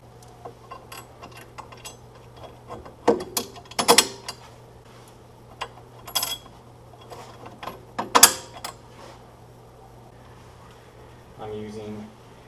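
A hand ratchet tightening bolts on a winch mount being installed on a Polaris RZR: short bursts of rapid clicking, with several louder ratcheting runs spaced apart over a steady low hum, and someone talking at times.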